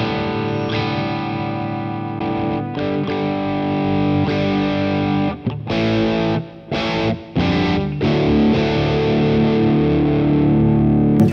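Heavily distorted electric guitar through a Gokko GK-60 Salem Boost pedal into a Boss Katana amp's dirty channel chugs and rings, loud and dense, with a few brief stops between phrases.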